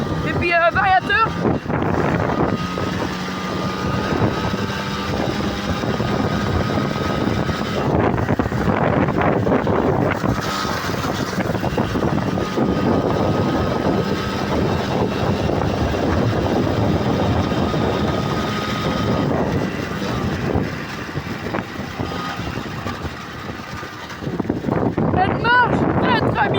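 A carbureted MBK 51 moped with a 15 mm carburettor and variator, engine droning steadily under strong wind buffeting while riding, with someone talking over it.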